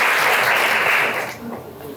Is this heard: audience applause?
yes